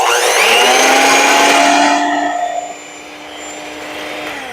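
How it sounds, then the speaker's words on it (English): A hand mixer fitted with a whisk beats egg whites in a bowl, a loud steady high-pitched electric whir whose tone shifts and drops partway through, with no talking. "I've got my hand mixer with my whisk, and I'm going to mix it until it peaks"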